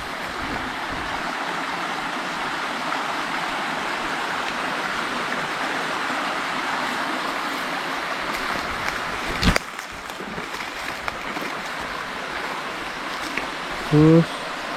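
A river flows with a steady, close rush of water that runs unbroken the whole way through, with a brief sharp knock near the middle and a short thump at the end.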